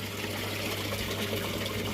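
Water runs steadily into a home aquaponics system with clay ball media, a continuous even hiss and splash with no pauses and no voices.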